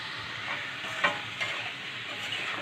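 Goat liver sautés in a hot pan, a steady sizzle broken by a few short scrapes and clacks of stirring.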